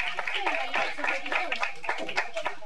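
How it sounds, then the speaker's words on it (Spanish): An audience at a book launch breaks into light, scattered clapping, fairly faint and mixed in among overlapping voices and chatter. "Un fuerte aplauso"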